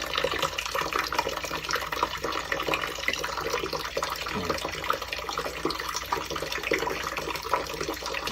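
Water keeps running from a house supply line while a faulty water heater is being removed, making a constant rushing, splashing wash that stays steady throughout.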